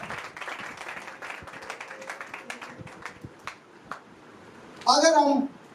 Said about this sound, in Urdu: یسوع کے لیے زوردار تالیاں جائیں